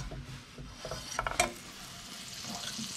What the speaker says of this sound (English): Sizzle. Just spread that around the pan a bit.